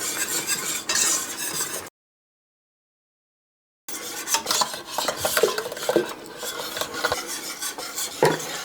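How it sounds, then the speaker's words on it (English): Ingredients for homemade L. reuteri yogurt being whisked in a bowl, with rapid scraping and clinking of the whisk at close range, interrupted by a two-second gap of silence before resuming. "Now I'm going to get my whisk, and I'm just going to whisk this together."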